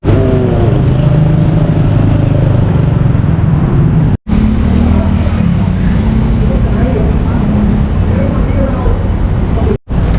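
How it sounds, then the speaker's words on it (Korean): Dense Bangkok traffic with a swarm of motorcycles and scooters rolling past, a loud continuous engine roar and road rumble filling the scene, with voices talking over it. "오토바이 부대가 이렇게 많이 오네요"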